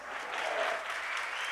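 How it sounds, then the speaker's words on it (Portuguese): A church congregation at a live Lagoinha worship service in Brazil applauds visitors, a steady wash of many hands clapping that fills the whole moment, with no voices standing out. "Igreja, vamos aplaudir nossos visitantes."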